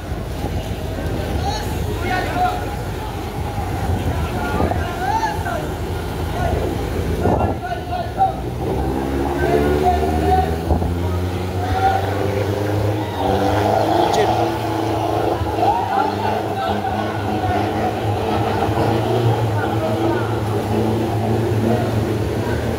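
A jeep pushes through floodwater during Typhoon Kristine: an engine drones and rises in pitch over rushing water and gusting wind, while people talk nearby throughout.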